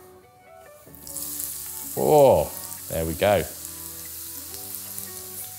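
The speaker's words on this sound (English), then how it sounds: "I'm gonna start by frying it off in a generous amount of olive oil" Onion and garlic sizzling in a generous amount of hot olive oil, a steady frying hiss throughout with a brief voice and some clattering in the middle.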